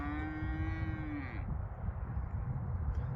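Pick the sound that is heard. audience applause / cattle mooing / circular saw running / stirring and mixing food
cattle mooing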